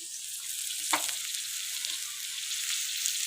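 Pork and seafood frying on a Thai mookata grill pan give a steady, close hiss of sizzling throughout, with one sharp crackle near the start and faint clinks of stirring.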